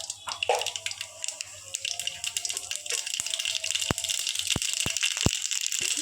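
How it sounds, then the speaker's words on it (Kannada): Mustard seeds tossed into hot oil in a pan while cooking bendekayi (ladyfinger) palya, giving a steady crackling rattle with several sharp pops standing out near the end, close and fairly loud. "ಸಾಸಿವೆ ಹಾಕ್ಕೊಡ್ತೇನೆ."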